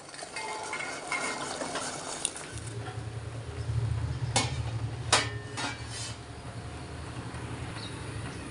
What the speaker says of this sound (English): Now I am going to put this in the boiling water.